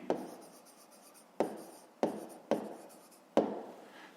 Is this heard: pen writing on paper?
yes